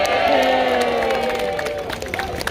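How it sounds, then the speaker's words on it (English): A crowd at a peaceful march in Darlington cheers and whoops outdoors, a sustained mix of raised voices and shouts that gradually tapers off, moderately loud. "Listen, give yourselves a cheer."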